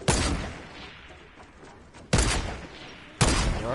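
Gunshots in Fortnite Battle Royale: three loud, sharp blasts spaced about a second apart, each with a trailing echo, close and prominent with no talk.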